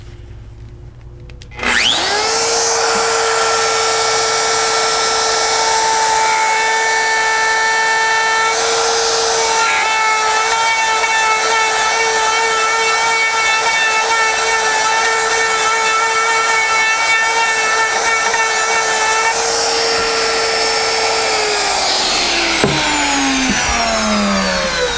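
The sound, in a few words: router bit freehand carving a wood sign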